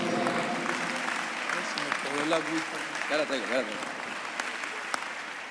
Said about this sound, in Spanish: Con un aplauso al Señor Jesucristo recibimos a nuestro hermano Vicente